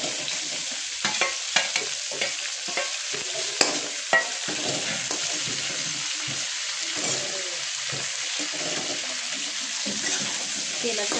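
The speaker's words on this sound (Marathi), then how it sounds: "आता ह्याच्यात ही भरलेली वांगी टाकते।" Stuffed brinjals drop into hot oil and fry for a village-style brinjal curry, a continuous close sizzle with scattered clatters and stirring knocks early on, and a voice talks faintly at times.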